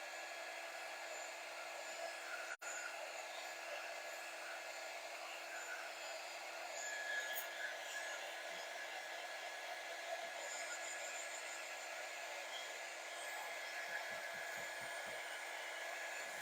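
A hair dryer runs on a craft layer to dry it, giving a continuous, even, steady blowing whir with no breaks, close and moderately loud, with no voices.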